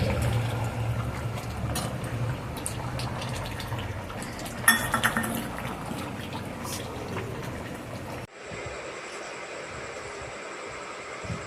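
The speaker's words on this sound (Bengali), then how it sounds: "আমি এবার চিকেনটাকে ঢেলে দিলাম দুটো গামলায় ঢেলে দিয়েছি" Chicken curry is poured into two bowls, a liquid slosh with clinks of metal utensils against dishes, steady and close, with a brief louder clatter midway before the sound cuts to near quiet.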